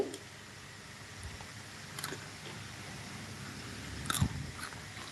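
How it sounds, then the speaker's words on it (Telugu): Crunchy murukku made from potato and rice flour being bitten, with a couple of crisp bites, the sharpest near the end, over a quiet indoor background. "ఇలా టేస్టీగా కరకరలాడుతూ వస్తాయి"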